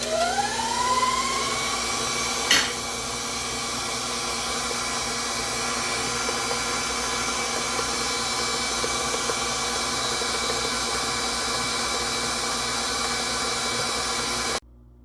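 Electric stand mixer running in fifth gear, creaming pound cake batter: a steady whirring motor hum with a rising whine at the start, one short knock near the beginning, then an even drone to the end.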